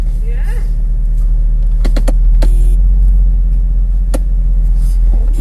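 Audi A8 engine idling steadily in a low, even rumble close by throughout, with a few brief clicks and a short tonal beep; people talk over it.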